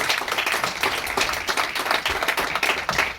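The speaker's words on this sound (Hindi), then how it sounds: "हम चाहते हैं कि सभी लोग मोहट सर के लिए एक जोरदार तालियां दें।" An audience at an academic gathering claps vigorously in thanks to a speaker, a loud, close, continuous burst of many hands with no speech over it.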